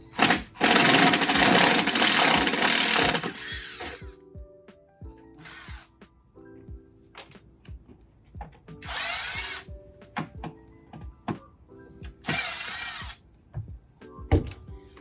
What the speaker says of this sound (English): So the first thing that we do, we remove the screws.